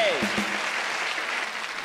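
Studio audience applause on a TV talk show, a steady broadband wash of clapping filling the whole clip, with a brief voiced sound near the start and no clear speech.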